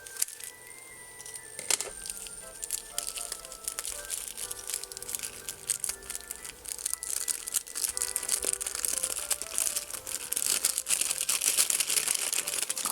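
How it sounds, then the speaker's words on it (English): A plastic kit bag for a Eurorack effects module is cut open with scissors, giving close, quiet crinkling and rustling that continues throughout with a few sharper snips. "Get my scissors so I don't rip anything while I'm taking this apart."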